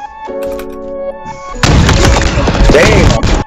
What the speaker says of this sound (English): The rifle is loud as fuck